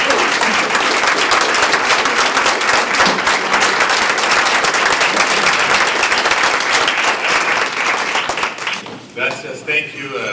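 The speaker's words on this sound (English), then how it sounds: "Big round of applause," A crowd gives loud, sustained applause for the California Secretary of State at a La Raza roundtable event, dense clapping that fades near the end as a voice begins speaking.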